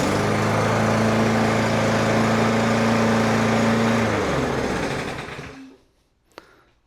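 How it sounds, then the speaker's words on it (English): A Briggs & Stratton lawn mower engine with a freshly rebuilt carburetor runs steadily and loudly at a constant drone, then is cut off and winds down to near silence, followed by a single faint knock. "Fired right up, first pull, that carburetor is good"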